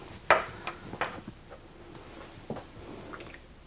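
Toner soaked into a cotton pad and wiped over the face in a morning skincare routine gives a few soft, close squishes and wet dabs, quiet and brief, separated by short pauses.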